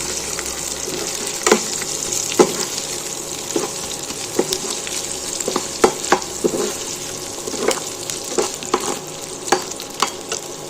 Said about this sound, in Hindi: तो प्याज को कर लेंगे हल्का सा फ्राई, ज़्यादा इसको रेड नहीं करना है।